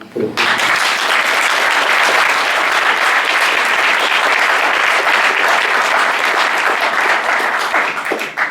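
Sustained applause from a church congregation at a French mission congress, dense steady clapping filling the room at full strength for about eight seconds before tapering slightly at the end.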